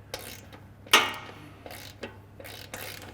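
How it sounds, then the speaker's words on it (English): A socket ratchet loosens a 14 flange nut on a 2016+ Toyota Tacoma front bumper, giving a sharp metallic crack followed by a few quick clicking pawl ratchets, close by with no talk. "So this inner 14 flange nut, I'm gonna swap out for a socket and a ratchet."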